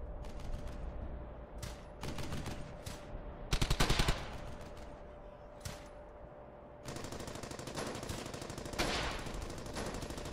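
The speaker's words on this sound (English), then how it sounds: "Who's shooting me?" Bursts of machine-gun fire in the video game Battlefield on PS3 crackle in rapid, repeated volleys, some short and some sustained, separated by brief quieter gaps.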